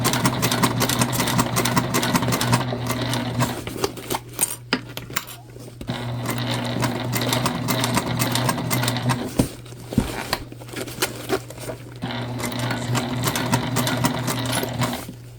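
A sewing machine runs in sustained bursts as it topstitches a tote bag, humming steadily with short pauses and light handling clatter between runs.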